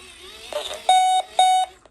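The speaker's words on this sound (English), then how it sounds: "so the alarm's on, I think there" Two loud, steady electronic alarm beeps from a crank-powered AM radio, each lasting about a third of a second, with a short gap between them, following some faint rustling handling noise.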